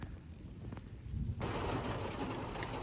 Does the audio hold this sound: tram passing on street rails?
no